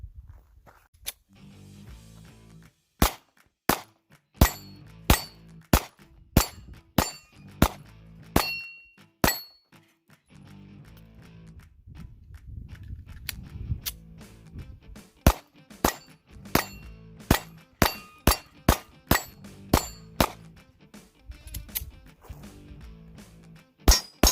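A Sig Sauer P365 pistol firing PMC 124 grain full metal jacket rounds at a range: many sharp, close shots in quick irregular strings with brief pauses, plus faint clinks and background noise between volleys.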